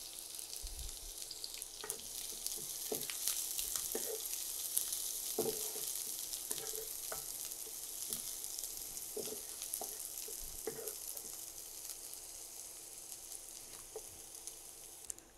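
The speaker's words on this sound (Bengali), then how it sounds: "তেলটা গরম হয়ে গেছে আর এখানে আমি দুটো পেঁয়াজ কুচি দিয়ে দিচ্ছি।" Chopped onions fry in hot oil with a continuous soft, hissing sizzle, fairly quiet, with occasional light knocks of stirring scattered through.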